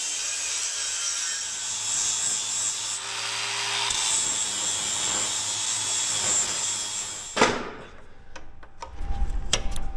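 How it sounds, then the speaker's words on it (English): Power tool grinding old paint off a surface, a continuous close, harsh whining grind that cuts off about three-quarters through, followed by a thump and scattered clicks and handling noises. "I got places that I need to grind off this old paint."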